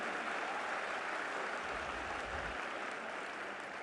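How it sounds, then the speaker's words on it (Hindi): Hearty audience applause at a celebration marking 75 years of India's independence, a continuous, even wash of clapping from a large crowd, rather faint and distant, with no voices over it. "एक बार जोरदार तालियों से"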